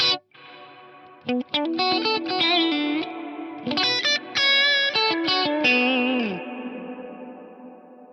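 Guitar played through an Eventide Eclipse with a vintage delay feeding a fully wet reverb in series: plucked notes and short phrases smear into dense echoing repeats, closing with a long washy tail that fades out alone.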